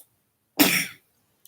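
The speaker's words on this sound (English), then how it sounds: "It's very hard not to cough." A single short, harsh cough up close, alone in otherwise quiet surroundings.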